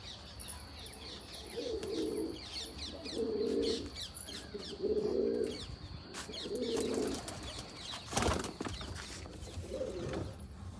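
Pigeons coo in low, soft bursts about every second and a half, close by, in an outdoor spot where they are being fed flatbread, with small birds chirping faintly in the background.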